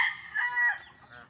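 Rooster crowing with hens clucking in a backyard among native farm animals, one short, loud crow stretching across the clip with faint clucks beneath, no talk.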